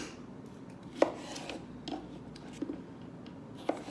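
A knife chops red onion on a cutting board for a salad, a few sparse, separate thuds at uneven intervals over quiet kitchen background, with no voices.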